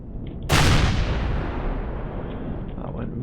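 A big ship-mounted gun in the Empyrion space game fires one loud, sudden blast whose roaring tail fades slowly over a few seconds.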